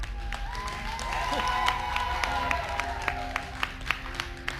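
A studio audience applauds the Roblox Creator Showdown champions with sustained clapping and some cheers, while a voice carries on over it and sharp individual claps stand out toward the end.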